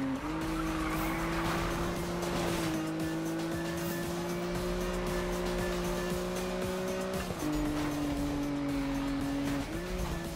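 A car drifting in Need for Speed, with a sustained, loud tire squeal whose pitch holds steady, then shifts twice as the slide changes, over engine noise. No talk.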